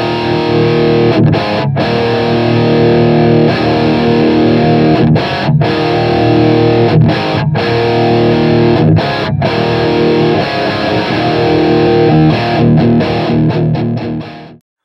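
Distorted electric guitar tone, amp-matched in BIAS Desktop, plays steady chugging riffs with brief string mutes, loud and close throughout with no voices.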